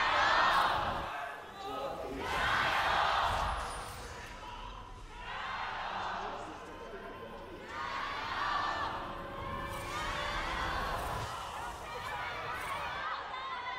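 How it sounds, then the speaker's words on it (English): A live esports crowd at an LPL Spring Playoffs match between Weibo Gaming and JDG, cheering in repeated swelling bursts that echo through the arena, with a commentator talking over it. "Start hearing the echoes in the crowd."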